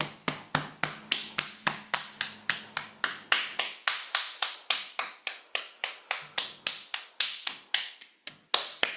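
Fingertips tap briskly on the body in a steady, even rhythm, a long run of sharp close pats spaced about a third of a second apart, with a faint hum beneath the first few seconds.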